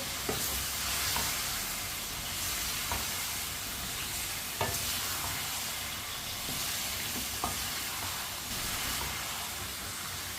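Chopped turnips stirred in a hot pan, a continuous frying sizzle broken by sharp spoon scrapes and clacks every second or two, close and with no talking.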